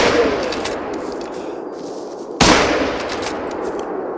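A rifle fires in TheHunter Call of the Wild, one sharp, loud crack cutting through a noisy outdoor background of rustle and wind, with a brief echo trailing off afterward.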